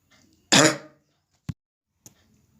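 One sharp, harsh cough close to the microphone, followed by two brief clicks or throat sounds in otherwise quiet surroundings.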